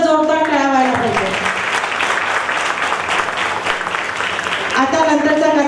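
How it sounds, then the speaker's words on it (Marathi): Sustained audience applause fills a school annual function hall for several seconds, loud and continuous, with a voice over a sound system heard at the start and end. "तिच्यासाठी खरं म्हटलं तर जोरदार टाळ्या व्हायला पाहिजे"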